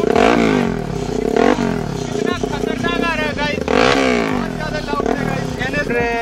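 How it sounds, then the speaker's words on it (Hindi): A Bajaj NS200 or KTM Duke BS6 motorcycle fitted with an SC Project aftermarket exhaust revs loudly and close by, its throttle rising and falling in long sweeping pulls, with someone talking over it. "आप लोगों ने SC प्रोजेक्टर की तो आवाज़ सुनी होगी।"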